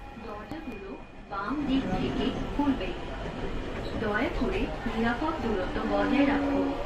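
Dhaka metro rail train riding toward Pallabi station, its steady rolling rumble running throughout beneath continuous nearby talking.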